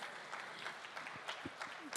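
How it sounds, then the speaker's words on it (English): An audience at the OPPO Reno3 Pro phone launch event in India claps in a brief, dense round of applause, with scattered sharper claps standing out from the steady patter. "Big round of applause."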